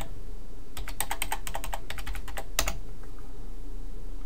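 Git username and password being typed on a computer keyboard: a quick run of close, crisp key clicks in uneven bursts with a short pause, then a final cluster of taps, no talking.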